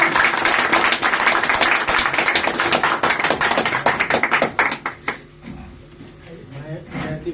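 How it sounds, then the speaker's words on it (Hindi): A crowd at an inauguration event for a traditional-medicine franchise in Haspura claps to welcome a speaker, with dense, loud applause that thins into scattered claps and fades away after about five seconds. "जोरदार तालियों से इनका स्वागत करेंगे"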